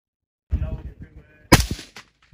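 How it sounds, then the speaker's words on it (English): A rifle shot at an Army National Guard sniper championship, a sharp loud crack with a short rolling echo outdoors, preceded by a muffled thump and a brief voice. "I'm shooting."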